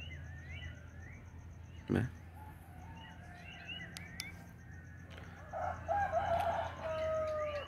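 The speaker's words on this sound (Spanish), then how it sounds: "quería hacer un video para que oyeran el cántico de los gallos a buena mañana" Several roosters crow at a distance and close by in the countryside before sunrise, still dark, one call after another, over a quiet background with faint bird chirps.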